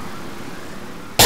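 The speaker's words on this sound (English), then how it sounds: "that cough kind of came up out of nowhere." A single sudden, loud cough bursts in at the very end, after a stretch of low, steady background noise.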